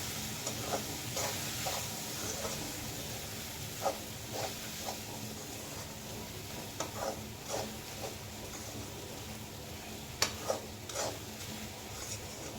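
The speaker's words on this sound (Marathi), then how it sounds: "तर आपण हळद, मीठ टाकलेले पोहे फोडणीमध्ये टाकूयात आणि ते मस्तपैकी वेल मिक्स करून घेऊयात." Poha mixed with turmeric and salt being stirred into hot tempering in a pan, a quiet continuous sizzle broken by soft, irregular scrapes and taps of a spoon.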